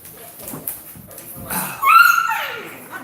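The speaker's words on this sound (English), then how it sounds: "My dog's going crazy." An excited dog whimpers and yips in short bursts, close by, rising into a louder high whine near the end, with some background sounds in between.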